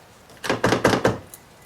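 A Honda Civic power door lock actuator locks with a quick run of four or five close, dull mechanical thumps, heard alone.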